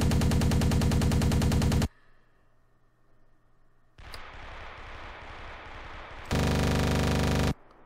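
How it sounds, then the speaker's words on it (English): Twin guns firing in the WW2 Online combat game: two long, loud bursts of rapid machine-gun fire with a quieter stretch of rumbling engine and ambient noise between them. "that's how I fire both my guns"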